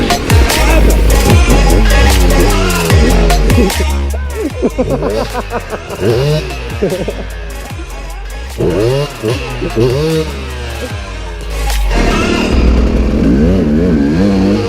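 An off-road motorcycle revs hard and repeatedly, its engine note rising and falling in quick bursts. The engine stays loud and close throughout, with other sound mixed in.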